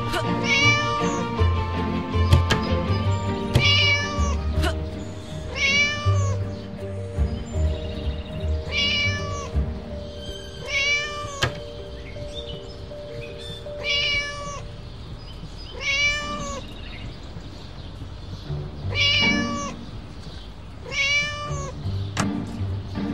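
A trapped cat in the video game Scary Teacher 3D meows again and again, a series of clear rising and falling meows repeating every few seconds over steady game music.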